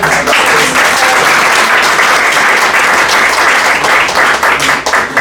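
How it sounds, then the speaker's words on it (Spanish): Closing applause from the audience at an academic panel on popular economies, dense, loud and sustained for several seconds, with no speech over it. "un aplauso de cierre"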